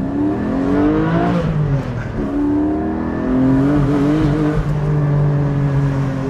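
A Porsche 718 Spyder with a manual gearbox revving hard while driving, the engine note climbing through the range, dropping on a shift, then rising again, loud and close with no talk.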